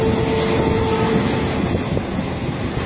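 A passenger train rolls along its rails in Namibia after heavy rains, a steady close rumble with rhythmic clatter and a brief high squeal early on, with no voices.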